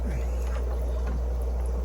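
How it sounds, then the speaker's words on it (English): Water bubbles steadily in an aquarium tank being readied for fish, fed by an air line connected to a valve, with a constant low hum of equipment beneath a soft, continuous fizzing wash. "I just let it bubble for a little while."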